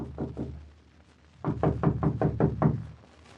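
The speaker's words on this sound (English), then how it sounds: "Knock on the door, please, Tim." Knocking on a wooden door as a radio-drama sound effect: two knocks, a pause, then a quick run of about seven firm, evenly spaced raps, close and clear with no talk.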